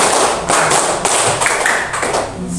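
Group hand clapping during a classroom coaching session, a few sharp, separate claps sounding close and loud over a murmur of background noise.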